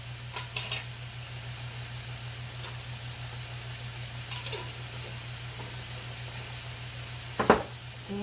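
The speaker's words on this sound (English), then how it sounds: "Now I'm going to add a half a cup of chopped onions." Half a cup of chopped onions sizzles steadily in a hot pan, a constant close frying hiss with a low hum underneath and a few faint clinks of a utensil.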